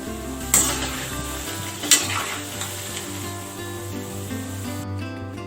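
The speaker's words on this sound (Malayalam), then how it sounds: "നമ്മൾ മീഡിയം ഫ്ലെയിമിൽ തിരിച്ചും മറിച്ചിട്ട് അതിനെ വറുത്തെടുക്കണം" Vadas for dahi bhalle fry in hot oil over a medium flame, a steady close sizzle with a couple of sharp clinks of a utensil against the pan as they are turned.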